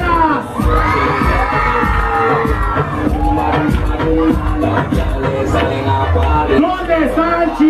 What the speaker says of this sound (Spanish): El grito fuerte de las solteras.